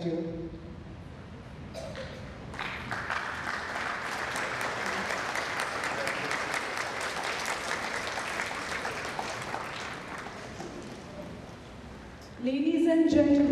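Sustained audience applause fills a school prefects' investiture ceremony, a steady dense patter that starts after a few seconds, holds at moderate volume and fades before a voice begins speaking at the end.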